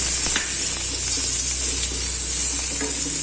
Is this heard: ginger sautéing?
yes